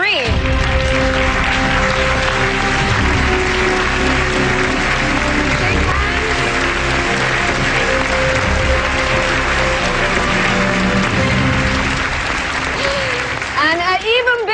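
A studio audience at the Singapore Brainiest Kid 2003 quiz show applauds steadily throughout, with music and a host's voice running over the clapping.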